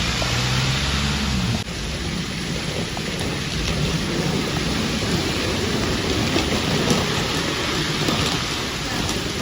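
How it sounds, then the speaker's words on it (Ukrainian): Heavy rain pours down steadily and loudly, a dense continuous hiss with drops pattering on hard surfaces. "почався дощ. Шалений."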